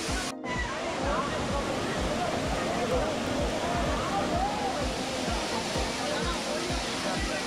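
Thottikallu (Swarnamukhi) waterfall near Bangalore roars as a steady, dense wash of falling water with churning low rumble, continuous and fairly loud throughout, with a brief dip near the start.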